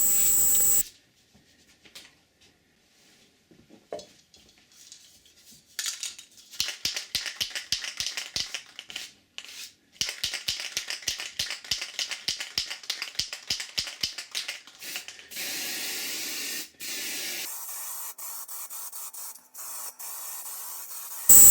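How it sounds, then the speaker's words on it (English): Matte black lacquer is sprayed from a can onto a veneered piece in quick hissing bursts. Some are short and clicky, others longer sustained sprays, all close up with pauses in between and no voices. "So put several coats of matte black lacquer on."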